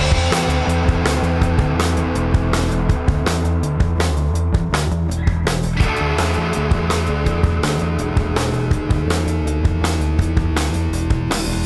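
A Peugeot 205 GTI in the Gran Turismo racing game, its engine droning steadily and loudly throughout with a sustained, unbroken tone and small periodic clicks.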